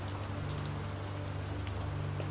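Steady rain falls as a soft, continuous hiss at low volume, with a constant low hum underneath and no voices.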